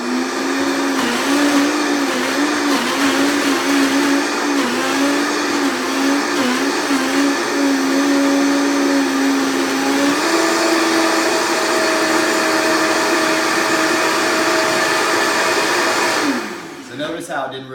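A blender roars on full blast while blending a smoothie, a loud continuous whine that shifts pitch as the load changes, then cuts off near the end.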